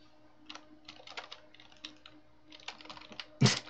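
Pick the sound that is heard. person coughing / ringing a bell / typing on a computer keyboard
typing on a computer keyboard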